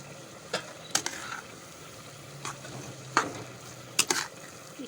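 Carrot halwa being stirred in a pan, with intermittent scraping strokes and soft sizzling, the spoon knocking against the pan every second or so, close and fairly quiet.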